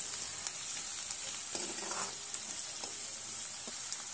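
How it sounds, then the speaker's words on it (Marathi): Ginger-garlic paste sautéing in a pan for a potato curry, a steady close sizzle with occasional soft scrapes of stirring, no voices. "आल्याचा आणि लसणाचा खमंग वास येईपर्यंत त्याला पहिला परतून घ्यायचा आपण।"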